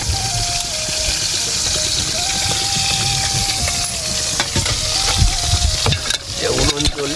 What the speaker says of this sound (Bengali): উনুন চলছে আর সাথে মাছ ভাজা চলছে